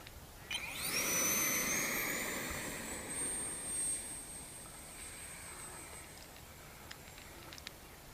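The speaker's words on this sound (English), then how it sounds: "I did put a JP 70 all aluminum 6S EDF in it." RC Tornado Viper jet fitted with a JP Hobby 70mm all-aluminum 6S electric ducted fan, a high-pitched whine that swells loudly and then fades slightly as it flies past, steady and continuous.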